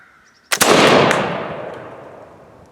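Flintlock smoothbore loaded with buck and ball over 60 grains of 2F powder fires one loud blast, with a brief flash crackle and a long rolling echo fading outdoors.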